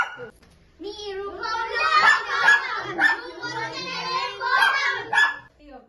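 A dog barks and yips repeatedly in quick bursts close by, mixed in with children and adults talking over it outdoors during a Holi festival gathering.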